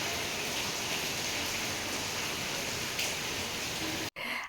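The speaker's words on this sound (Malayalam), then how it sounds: "നമ്മൾ പുറത്തേക്ക് ഇറങ്ങിയ ടൈം നല്ല മഴയേനു" Heavy rain pours down in a loud, steady broadband roar that stays dense throughout and cuts off abruptly near the end.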